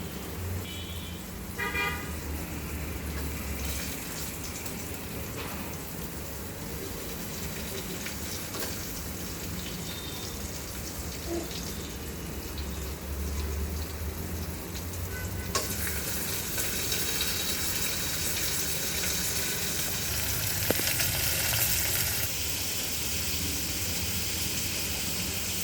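Browned onions and tomato sizzle in a hot pan while being stirred, a continuous crackling fry broken by scraping strokes of the spoon.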